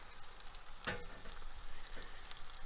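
Tofu pieces seasoned on top fry in a pan with a soft, steady sizzle and crackle, fairly quiet and close, marked by one brief sharper pop.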